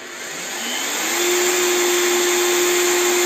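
A Parkside PTBM 710 A1 bench drill runs up to speed, its steady motor whine rising over the first second and then holding loud and constant, with no talk.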